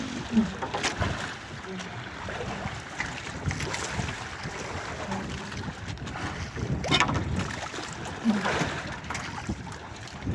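Strong wind gusts roar across a fishing boat out at sea, with rushing, buffeting noise that swells and eases throughout, water sloshing underneath and faint voices in the background.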